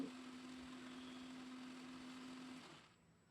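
An electric mixer grinder blending a carrot ice cream mixture in its jar, running as a steady whirring hum for nearly three seconds before switching off abruptly.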